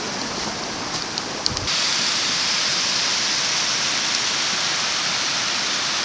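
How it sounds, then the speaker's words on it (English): Nannup waterfall in a forest gives a steady, dense rush of falling water, constant and fairly loud throughout, with a brief knock or thump early on before the roar settles evenly. "So that's the waterfall there."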